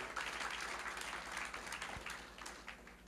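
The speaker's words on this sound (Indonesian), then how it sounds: "Berikan tepuk tangan, haleluya." A church congregation claps together in steady applause, a dense patter of many hands that carries on evenly throughout.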